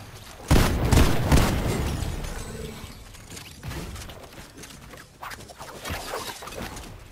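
Rocket launcher blasts in a first-person video game firefight: a loud booming impact near the start, then several smaller thuds and rumbling explosions trailing off amid gunfire-like clatter.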